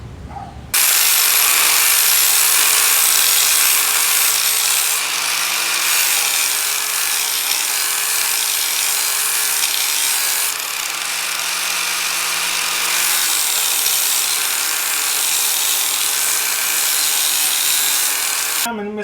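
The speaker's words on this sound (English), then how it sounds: "for grinding, I just use a 90-degree angle grinder with a flat disc." A 90-degree angle grinder with a flat disc sharpens a Simplicity Citation XT mower blade, giving a loud, continuous high grinding whine with slight pitch shifts as the disc bears on the steel, running nearly nonstop.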